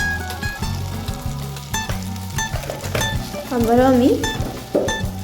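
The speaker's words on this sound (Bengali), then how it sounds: "নাড়াচাড়া করে চিনিটা মিশিয়ে নেব।" Sugar being stirred into a vegetarian curry with lentil dumplings in a pan, heard as repeated scraping stir strokes over a light sizzle, close by, with someone speaking briefly partway through.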